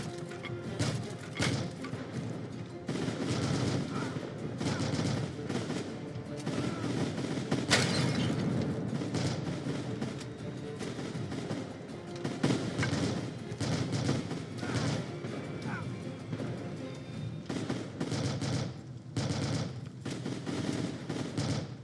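Sustained machine gun fire and scattered gunshots in the Shattered Spear indie war video game, dense and loud throughout with bursts, crashes and occasional booms, no speech.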